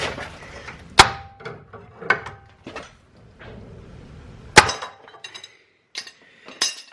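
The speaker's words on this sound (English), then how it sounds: "you basically take a hammer and you want to smack this piece here while pushing down" Several sharp metallic hammer strikes on a tapered track rod end of a 2010 Peugeot 207 HDI ring out at irregular intervals, two especially loud clanks among lighter taps and scraping handling noises.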